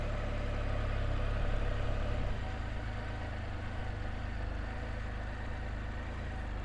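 A 2019 Can-Am Spyder RT Limited three-wheel motorcycle cruises at about 1400 RPM and 10 mph, a steady, close, low engine drone with road rumble and no pauses.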